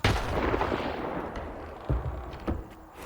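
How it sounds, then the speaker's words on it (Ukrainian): A grenade explodes in the video game STALKER 2 with a loud, close blast at the start. The boom rolls into a rumbling tail, and a few sharper bangs follow. "Граната!"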